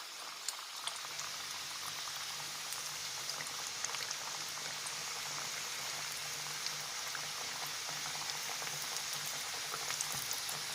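Spanish roscos dough rings fry in oil in a pan, giving a steady, continuous sizzle and crackle with fine popping throughout, fairly quiet and close, with no voices.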